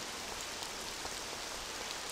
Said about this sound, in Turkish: Yağmur efektini de güzel yapmışlar.